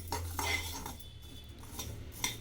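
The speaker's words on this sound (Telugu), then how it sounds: "ఒక కప్పు ధనియాలు వేస్తున్నానండి హాఫ్ కప్పు జీలకర్ర ఇవి లైట్గా వేడి చేద్దాం" Coriander seeds and cumin dry roasting in a pan, with a spoon stirring them: quiet scraping swishes and light metallic clinks in a few short bursts, faint and close.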